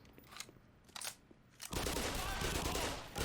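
Gunshots in the Black Mesa game: a few scattered sharp shots, then a dense continuous burst of rapid fire that fills the last half, loud and close.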